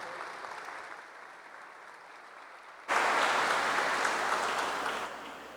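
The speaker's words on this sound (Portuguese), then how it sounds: "Uma salva de palmas a todos que vão lutar pela restauração dessa igreja." Steady audience applause at a church book launch, a sudden jump to a fuller, louder clapping halfway through before it begins to taper off.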